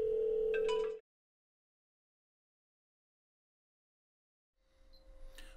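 A phone call ending on a 2017 Pioneer NEX car receiver running Android Auto: a short electronic tone lasts about a second and then cuts to silence, followed by faint low hum and a soft click later.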